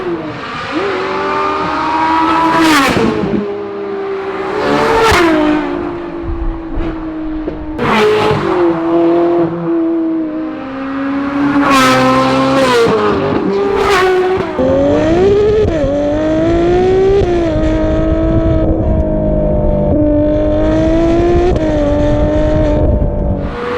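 A 720-horsepower Ferrari engine revs hard and accelerates in repeated loud, close bursts, with rising harmonic sweeps and sharp gear-change spikes across the whole stretch.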